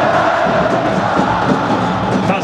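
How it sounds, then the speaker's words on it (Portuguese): Botafogo football fans chanting loudly in the stands at Maracanã stadium during a match against Flamengo, a dense, continuous roar of massed voices singing together, close and full throughout. "E nesse momento quem grita é a torcida do Botafogo."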